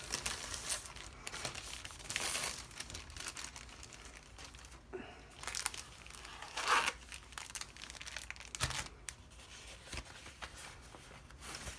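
A plastic bag is crinkled and handled in irregular bursts, some louder crackles among softer rustling, fairly close and without speech.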